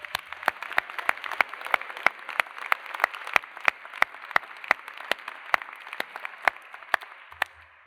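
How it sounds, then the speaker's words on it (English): An audience at a graduate programs recognition ceremony applauds for family and friends, a soft, even wash of clapping with sharp individual claps standing out at a regular pace. "They all deserve a round of applause for their support and guidance"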